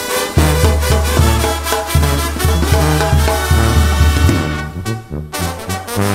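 A band performing a corrido in Mexican brass banda style, with loud, steady driving tuba bass, punchy brass lines and percussion, full band sound without any speech.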